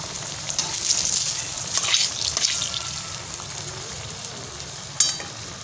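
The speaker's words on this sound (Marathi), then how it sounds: "हे बघा, तळायला लागले आता वडा." Medu vada frying in hot oil, a steady bubbling sizzle up close with a few louder spits and crackles, one sharp pop near the end.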